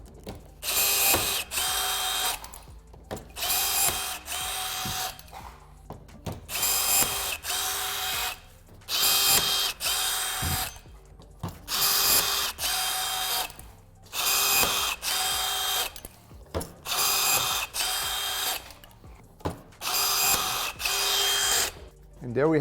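Battery-powered rivet tool setting aluminum rivets while installing a C7 Corvette undertray, a loud buzzing whir repeating about eight times in steady bursts with short pauses between, close to the ear.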